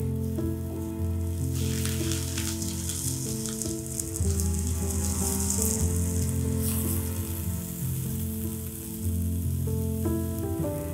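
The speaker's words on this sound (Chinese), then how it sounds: "这里呢煎点蘑菇片当摆盘" Sliced mushrooms frying in a pan for a garnish, a loud steady sizzle and crackle of hot oil filling the whole stretch, with a faint musical tone running beneath.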